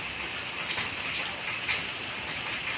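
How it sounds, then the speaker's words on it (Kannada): Steady heavy rain pours down in a continuous, dense hiss with no break, with no voices present. "ಮಳೆ ಸ್ಟಾರ್ಟ್ ಫುಲ್ಲು ಮಳೆ ಇದೆ"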